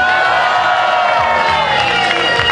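An Oktoberfest show audience in a Wiesn tent roars back in a sustained, loud burst of cheering and shouting, many voices blending into a dense wall of noise.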